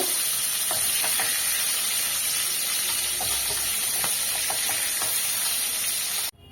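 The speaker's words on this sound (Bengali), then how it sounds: "আমি কিন্তু পটলটা উল্টে পাল্টে ভেজে নিয়েছি।" Pieces of pointed gourd (potol) fry in hot oil in a pan, giving a steady, dense sizzle with occasional pops and stirring clicks, close and continuous until it cuts off near the end.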